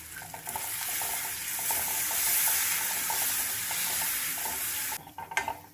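Grated raw mango sautés and sizzles steadily in a pan over low heat while being stirred, a loud continuous hiss with faint scraping that tapers off near the end.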